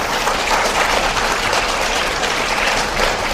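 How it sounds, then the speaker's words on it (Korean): Steady, dense audience applause at a Korean history lecture in honour of an elderly patriot, a continuous wash of clapping with no speech. "박수 한번 주십시오."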